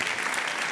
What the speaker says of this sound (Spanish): Un aplauso a tu pareja